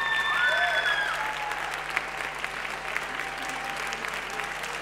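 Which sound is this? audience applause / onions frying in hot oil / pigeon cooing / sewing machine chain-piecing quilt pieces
audience applause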